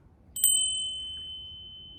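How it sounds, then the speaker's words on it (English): A ritual bell struck once, giving a clear bright ring with high sustained overtones that decay slowly over a low background hum, with no voices. "use a bell."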